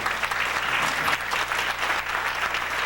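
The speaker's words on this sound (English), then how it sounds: "Let's give him a round of applause." A dense, steady wash of clapping from a large audience, sustained at full strength throughout.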